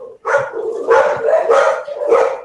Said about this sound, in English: Sorry, you guys are hearing my dogs.